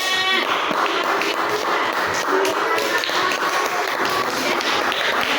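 A room full of people claps and cheers together, a dense, steady burst of applause with scattered voices and shuffling.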